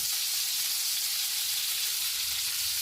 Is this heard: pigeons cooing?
no